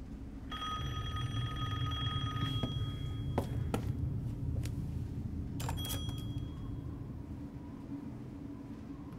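An old telephone rings in the Resident Evil Village video game, a bright electronic trill lasting about two seconds, then a shorter burst later, over a low steady background hum with a few sharp clicks and knocks between rings.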